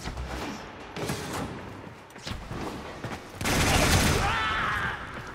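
Boltor gunfire in Warframe, a dense rapid fusillade of game weapon shots with overlapping impacts, growing louder and heavier in the final seconds, with a voice talking faintly in places.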